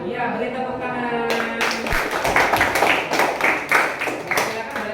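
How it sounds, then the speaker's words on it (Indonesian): Classroom applause after a group presentation, a burst of many hands clapping in a steady patter for several seconds, following a voice speaking at the start. "Iya, beri tepuk tangan."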